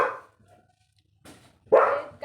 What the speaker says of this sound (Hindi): कोई बाहर जा रहा होगा तो इसलिए भौंक रहा है।